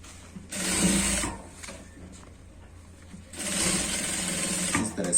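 A sewing machine stitches a trouser waistband in two loud runs of steady whirring, separated by a quieter pause with light handling noise.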